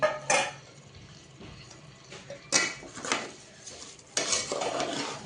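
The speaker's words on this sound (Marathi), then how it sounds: "यालाही चांगलं मस्त असं परतून घ्यायचं आहे 2-3 मिनिटं तेलातच." Masale bhat sautés in oil in a pan, with a spoon scraping and clanking against the metal in several sharp knocks over a soft background sizzle and no talking.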